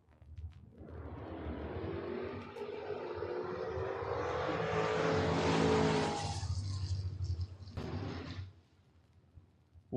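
An '85 Camaro and a Mustang launch side by side at a door-car drag race. Their engines roar in a loud, building surge that peaks and then cuts off sharply, leaving faint background noise.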